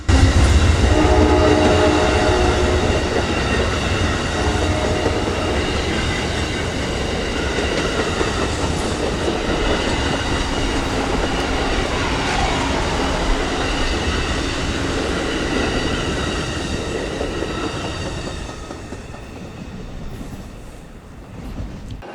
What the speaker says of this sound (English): Here we see the northbound Amtrak 98, the Silver Meteor, departing the station.